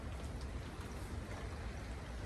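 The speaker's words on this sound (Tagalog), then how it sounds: "Umulan na." Rain falls steadily and evenly, a dense continuous patter of drops on surfaces with no voices.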